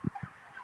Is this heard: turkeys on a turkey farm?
yes